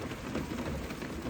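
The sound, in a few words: heavy rain falling outside a vehicle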